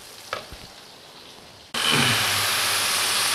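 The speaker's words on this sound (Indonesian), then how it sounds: "Kita tumis dulu, kita goreng sampai dia kental." Spice paste for Bandung-style mie kocok fries in a pan. After a quiet stretch with a light clink, a loud, steady sizzle suddenly erupts close by and continues unbroken.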